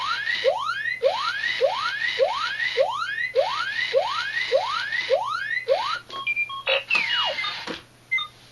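A Hasbro Smart R2-D2 toy robot in surveillance mode emits a regular series of rising chirping beeps, about one per second, then breaks into a few scattered electronic bleeps before going quiet, clear and close.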